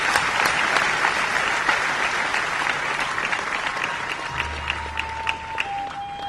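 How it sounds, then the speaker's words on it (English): A crowd applauds steadily at a book release event with dense clapping throughout, tapering slightly toward the end as a low hum enters. "Give him a big round of applause."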